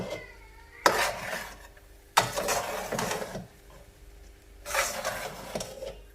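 Vegetables and boiled rice tossed and mixed in a pan for veg fried rice, three bursts of scraping and clattering a second or so each, separated by quieter gaps with faint background hum.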